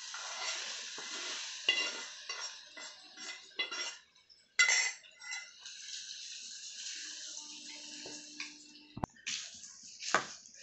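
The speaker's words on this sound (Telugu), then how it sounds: "ఈ పోపు ఈ పచ్చడి అంతా పట్టేలాగా బాగా కలుపుకోవాలండి" A spoon stirs hot tempering into raw mango pickle, giving wet scraping and squelching strokes with clinks against the vessel, brief pauses between bursts and a sharp knock near the end. No one speaks.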